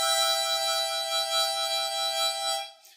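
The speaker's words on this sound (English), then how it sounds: "kind of like a wah-wah, an analog, a physical wah-wah." A steady harmonica note held for about three seconds while a cupped hand waves over it, giving a gentle wavering wah-wah swell before it fades at the end. Nobody talks.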